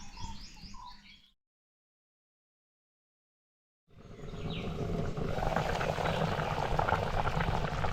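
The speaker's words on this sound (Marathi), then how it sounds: "असं चुलीवर ठेवायचं आणि कड काढून शिजवून घ्यायचं" Fish curry bubbling in a pot over a wood-fire stove in a Konkan home kitchen, a steady dense simmering texture that swells and stays loud after a short silent gap.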